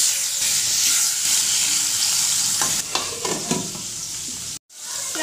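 Fish frying in a pan, with a loud, dense hiss and bubbling sizzle that carries on steadily, a few crackles in the middle, and a short abrupt gap near the end.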